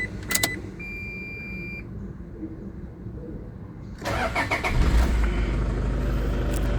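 Toyota Kijang Innova 2.5 G diesel with automatic transmission, KD-FTV engine, cranks briefly and fires into a steady low diesel idle after a quiet pause, close and fairly loud.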